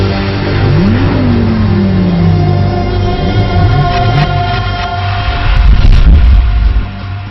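A BMW X5 M or X6 M powers around the Madras Motor Race track near Chennai, its engine loud and close, with one revving sweep rising then falling, followed by further shorter pitch climbs as it accelerates.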